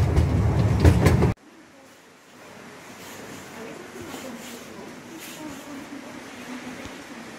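A heritage railway train with sleeping cars at a steam museum and gardens, a loud rumbling burst that cuts off abruptly, then a quieter steady rolling clatter continuing in the distance.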